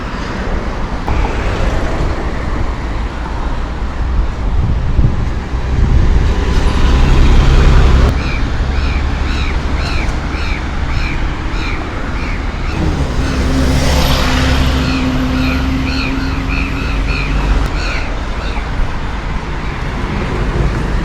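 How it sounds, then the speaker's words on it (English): Busy city road traffic in Yangon, Myanmar: a steady roar of cars and buses passing nearby, with engine swells and one vehicle whining past in the middle, continuous and loud throughout. "There are lots of vehicles moving across this road."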